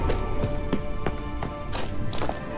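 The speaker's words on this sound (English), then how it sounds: "Another horse. Almost exactly like the last one." Horse hooves clip-clopping in a steady, near rhythm in the video game The Witcher 3, a run of repeated hoofbeats filling the short stretch with no talk over it.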